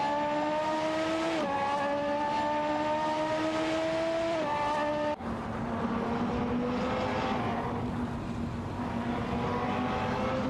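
Lamborghini race cars, a Huracan and a Gallardo, roar through a racing video game with steady whining engine tones that dip at gear shifts, then abruptly change to a different engine drone halfway through, loud and continuous with no talking.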